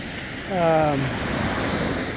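Ocean surf washes steadily onto a beach in a continuous broadband rush, swelling slightly after the first half second, with a brief tonal whine of a passing boat or wind through it.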